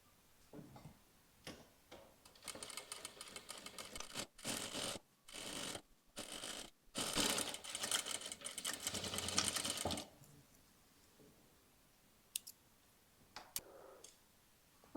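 A sewing machine stitches around a knit top in several loud, steady bursts separated by short pauses, then falls quiet with a few faint clicks of handling at the end; no one speaks.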